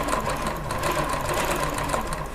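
A zigzag sewing machine runs steadily, pico-stitching the border of a saree in one continuous whirring drone. It sounds close and loud, with no pauses and no talking.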